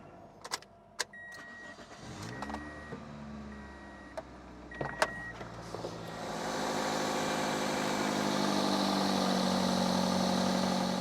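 A car engine cranks and starts after a jump start from a Lokithor JC400 jump starter, then settles into a steady idle, preceded by a few clicks and a brief whir of an electric window.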